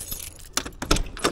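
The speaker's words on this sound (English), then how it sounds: "Where's the keys?" A bunch of keys jangling close by in several quick metallic bursts during a roadside stop with a broken-down vehicle.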